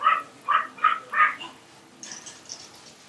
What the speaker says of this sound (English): My dog is barking and I don't know why.